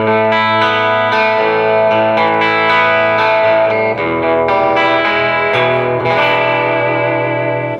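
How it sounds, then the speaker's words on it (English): A Gretsch 6119 electric guitar with single coil pickups played through an amplifier, sustained chords and notes ringing loud and close with distortion and a chorus-like shimmer throughout. "Now this has the single coil pickups. They'll hum a little bit through an amplifier."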